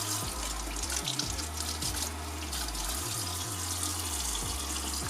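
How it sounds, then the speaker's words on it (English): Cold tap water runs steadily into a sink while chicken breasts are rinsed, with splashing and small irregular changes in the flow as the meat is moved under the stream. "Just rinsing the chicken. Cold water"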